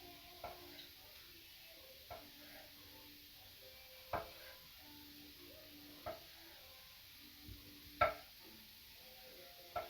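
A knife cuts grape tomatoes into quarters on a board, giving sharp isolated taps roughly every two seconds over a faint background sizzle, quiet and with no talking.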